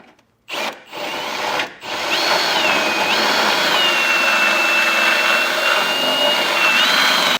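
A power tool, likely a drill with a grinding or cutting bit, enlarges a hole in the frame of a 2022 Subaru Crosstrek while a trailer hitch receiver is fitted. A few short bursts come first, then a steady, loud whine with a pitch that wavers.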